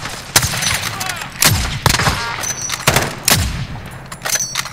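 Gunfire in the Call of Duty Warzone video game: several loud, booming shots at irregular intervals with echoing tails, over constant background game noise.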